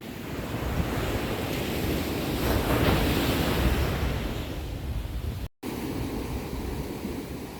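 Ocean waves breaking on the beach at Malibu, a steady broad roar of surf and rushing water with wind buffeting the microphone, loud and continuous with a brief dropout near the end.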